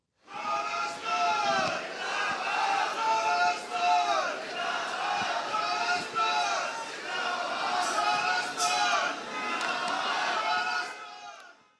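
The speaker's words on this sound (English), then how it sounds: "As he walked up to the mic, the crowd began chanting Khalistani slogans." A large crowd at a Sikh event in Toronto chants slogans in unison, a loud, continuous rhythmic roar of many voices with repeated cadences lasting throughout.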